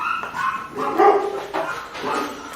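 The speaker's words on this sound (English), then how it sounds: "We have dogs barking over there." Several dogs bark and yip nearby at a training session, with repeated sharp barks in irregular bursts, loud and close, and some whimpering between them.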